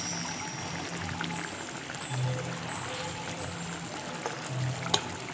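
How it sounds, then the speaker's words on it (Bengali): Raw mustard oil is poured over a simmering bhetki fish curry, with a steady, close pouring and trickling hiss that runs evenly throughout, with no talk. "ওপর থেকে কাঁচা সর্ষের তেল আমি ছড়িয়ে দিলাম"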